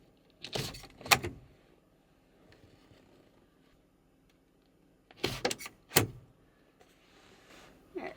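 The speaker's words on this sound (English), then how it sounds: "I'm going to crack a few of the windows in the bus" Windows on a converted bus being slid and cracked open on a warm day, heard as a few separate bursts of latch clicks, sliding rattles and knocks with quiet pauses between, fairly close and without talk.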